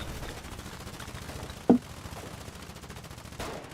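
Distant enemy machine gun fire in Foxhole rattles steadily in a fast, even rhythm, fairly faint, with a single sharper impact partway through.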